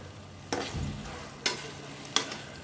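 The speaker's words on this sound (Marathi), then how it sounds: "आणि हे चांगलं हलवून घ्यायचं आहे" A thick beetroot and coconut ladoo mixture with cardamom is stirred in a pan over a soft steady sizzle, with three distinct scraping strokes spaced about a second apart, close by, no voices.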